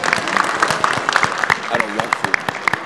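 Scattered applause from a live-show audience at PAX East, distinct individual claps popping out in an uneven rhythm, with faint voices heard underneath.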